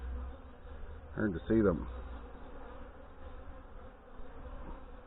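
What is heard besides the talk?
honey bees swarming around a beehive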